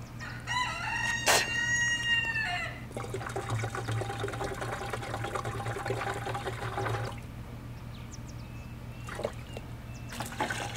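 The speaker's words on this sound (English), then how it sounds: "My rooster's freaking out over there." A rooster crows once nearby in a backyard garden, a loud drawn-out call, followed by steady hissing and liquid spray noise with faint outdoor background.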